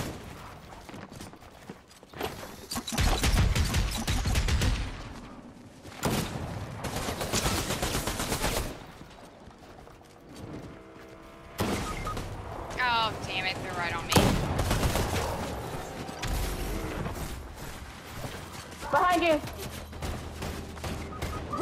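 Bursts of gunfire in a Fortnite squad match, loud clusters of rapid shots separated by quieter gaps, with players talking over parts of the action.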